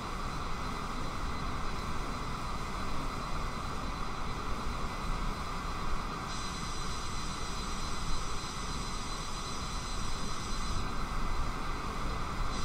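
A heavy jetliner's engines spool up under added throttle in Microsoft Flight Simulator 2020, a steady loud broadband roar with a high whine that thickens midway through.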